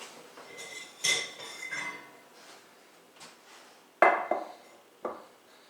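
A greased mixing bowl is picked up and set down in a home kitchen while making sandwich bun dough, giving a few close clinks and knocks against the counter amid quiet handling.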